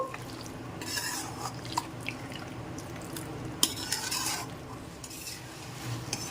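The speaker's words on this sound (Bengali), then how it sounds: "গ্যাসের ফ্লেমটাকে কমিয়ে মটনটা আমি কষিয়ে নিতে থাকবো" Mutton being slow-cooked over a low gas flame, a spoon scraping and stirring through the thick pan contents in soft, irregular strokes beneath a faint low sizzle, close and quiet with no talking.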